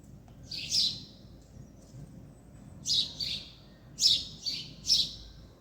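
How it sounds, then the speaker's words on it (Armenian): Small birds chirp outdoors in an autumn garden, giving short bright bursts, one early and then clustered pairs toward the end, against faint background ambience. "Դուք սրանց ծլվլոցը լսեք։"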